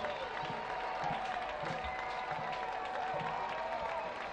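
Steady, distant stadium applause and crowd noise after the final whistle of a Birmingham Legion FC home soccer win over Indy Eleven, a broad wash of clapping sustained throughout with no distinct peaks.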